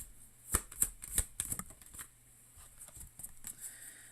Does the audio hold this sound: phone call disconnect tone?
no